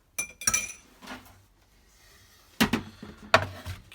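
Kitchen pan being picked up while cooking pork chops, heard as a few sharp metallic clinks and clatters at the start, middle and end, separated by quiet.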